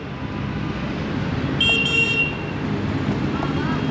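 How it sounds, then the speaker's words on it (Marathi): A vehicle horn sounds in roadway traffic, two short, loud honks in quick succession over a steady rumble of passing vehicles, with a fainter toot following later. "उगस हॉर्न वाजत बसतात"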